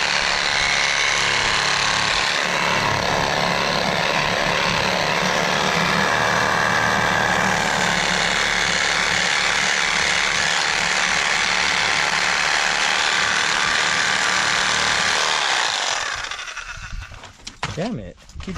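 Milwaukee power tool, likely an impact wrench, working a manifold bolt loose: a loud, continuous rattling hammer that holds steady for about fifteen seconds, then stops and gives way to quieter clatter.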